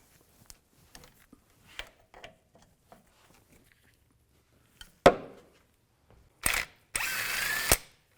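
An impact or power tool with a 19mm socket spins out the front brake caliper bolts on a 2015-2020 Cadillac Escalade, three loud bursts near the end after quiet clicks and light handling noises.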